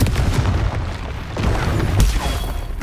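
Booming blasts of the Confringo blasting curse in Hogwarts Legacy, a few heavy explosions rolling one after another amid combat noise, loud and close.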